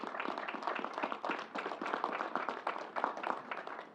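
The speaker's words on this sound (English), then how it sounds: "let's give Commissioner Ball and Troy a big round of applause for their good work" A room of people at a state briefing in Syracuse applauds, a dense, even burst of many hands clapping that carries on steadily for the whole stretch.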